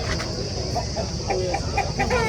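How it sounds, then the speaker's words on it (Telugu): A tall two-year-old Aseel rooster, about 4.5 kg, clucks in a series of short, close calls amid a busy Saturday poultry market in Mydukuru, with other birds and crowd noise in the background. "మంచి ఎత్తుగల పుంజు"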